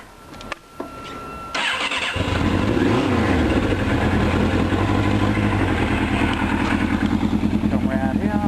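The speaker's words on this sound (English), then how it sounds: "Now I'm going to have to drop the camera while I pull the clutch in and start it so you can hear it." A 1998 Suzuki GSX-R600 motorcycle cranks over and fires up after a few clicks, then settles into a loud, steady, burbling idle close by, without talk.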